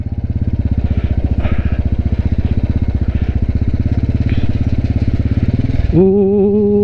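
A motorcycle engine labours up a steep, difficult, slippery mountain trail on a solo ride to Latarambeshwor Mahadev, a loud close throbbing putter that holds steady, then shifts abruptly to a higher revving whine near the end.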